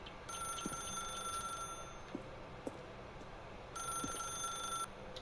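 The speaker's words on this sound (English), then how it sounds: "I'm not picking it up. Let it ring, baby. Let it ring." A telephone rings in The Stanley Parable video game, steady electronic bursts repeating in two long spells with a pause between them, loud and alone with no talk.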